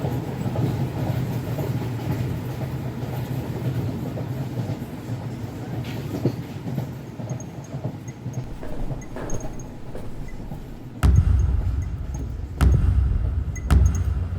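A train rumbles along the rails at steady speed in an animated horror short, with a continuous loud low roar and sharp rhythmic clacks and thumps from the wheels toward the end, with no talking.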